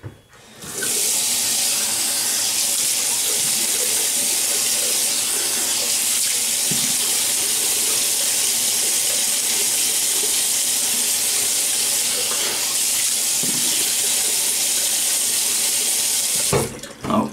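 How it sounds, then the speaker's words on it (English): A tap runs steadily for about fifteen seconds, a loud, continuous rush of water as the face is wetted before shaving, then shuts off. "so let me wet the face."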